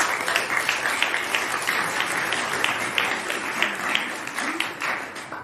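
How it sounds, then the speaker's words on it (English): A lecture audience claps steadily and fairly loudly to welcome a speaker, a dense even patter of many hands that holds throughout without talk. "please give a big round of applause to welcome Eve Harow"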